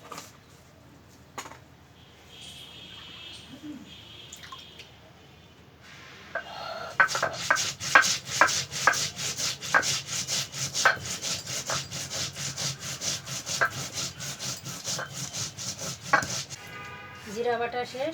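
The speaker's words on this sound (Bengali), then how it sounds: "প্রথমে আমি মাছটার জন্য জিরা বেটে নেব।" Cumin seeds ground into a paste on a grinding stone for a fish dish, heard as a steady run of rough, rhythmic scraping strokes that starts after a quieter opening and carries on close and loud.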